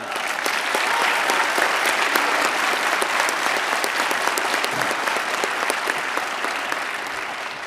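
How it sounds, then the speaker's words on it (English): A crowd at the Newport News Police Department academy graduation gives the new officers a sustained round of applause, loud, dense clapping that fills the whole stretch evenly. "How about one more hand of applause for our new officers?"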